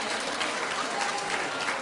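A studio audience at a daytime talk show claps in a short, dense burst of applause that holds steady and fairly loud throughout, with no speech over it.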